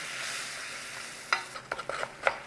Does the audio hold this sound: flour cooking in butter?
yes